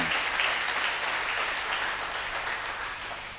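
A church congregation applauding during a sermon, sustained crowd clapping that fills the room and slowly fades.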